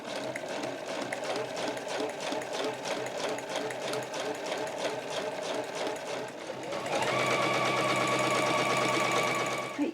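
A home sewing machine stitches along the edge of a heavy No. 8 canvas tote bag, running a rapid, even mechanical chatter that shifts to a denser, louder whir partway through, close up with no talking.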